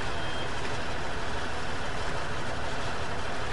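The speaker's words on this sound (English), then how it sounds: "Honestly, this sounds like a big semi." A deep, rumbling truck engine in a farming video game drones steadily and loudly, like a big diesel semi idling close by, with no gaps.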